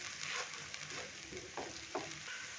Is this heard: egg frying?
yes